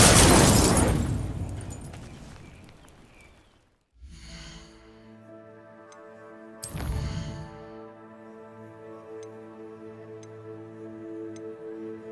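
Incendio fire spell blast in the video game Hogwarts Legacy: a loud roaring burst that fades over a few seconds, then a brief gap, a second sharp burst, and lingering ringing tones.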